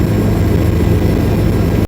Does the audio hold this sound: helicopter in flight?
yes